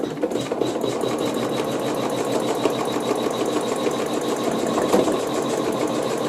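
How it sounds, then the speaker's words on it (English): Sewing machine stitching a seam at slow speed, a steady close mechanical whir with fast even needle clatter throughout and no pauses. "Again, I'm sewing nice and slow."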